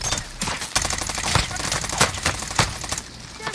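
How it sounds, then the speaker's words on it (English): Gunfire from Call of Duty Warzone cracks out in rapid, repeated sharp shots through a dense game mix, loud and close, with no clear talk over it. "So the guy on the right is sniping."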